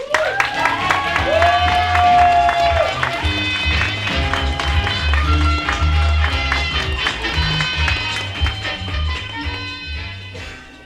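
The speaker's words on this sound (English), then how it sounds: "Can I get a round of applause for Helen, please, all the way up?" Applause and scattered cheers greet a poet at a pub open mic, the clapping running beneath loud bar music and a rhythmic beat, with a voice calling out early on.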